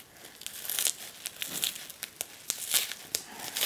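Adhesive tape being peeled and ripped off a cardboard mail package, with crinkling, crackling and short sharp tearing bursts in an irregular rhythm, close and fairly quiet, with no talking.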